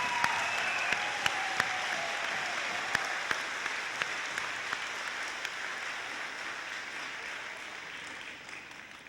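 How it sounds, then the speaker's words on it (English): Graduation audience in a college hall applauding the faculty, scattered individual claps standing out over a soft, thinning wash of applause that gradually tapers off. "will you stand and let us give you a round of applause, all the faculty?"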